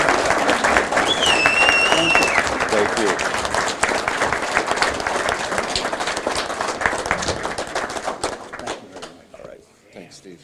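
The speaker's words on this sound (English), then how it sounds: "A round of applause now for great management." A crowd applauds at a fire department event honoring a long-serving member, loud clapping and a few whistles near the start, then the clapping thins and fades toward silence, with a brief spoken thanks.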